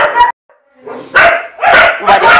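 Dogs in a kennel barking in short bursts, a few sharp close barks and yips with brief gaps between them.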